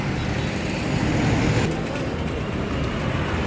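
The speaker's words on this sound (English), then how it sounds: "Heavy traffic" Heavy road traffic on a highway toward Chennai, a continuous dense rumble of cars and buses with steady broadband roar, loud and close throughout without a break.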